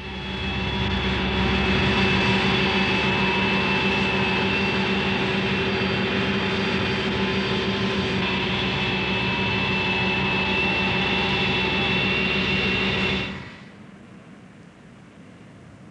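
Steady, loud drone of an airplane's engines in flight aboard a weightlessness training aircraft, a continuous hum with tonal whine that cuts off sharply near the end, leaving quiet cabin noise.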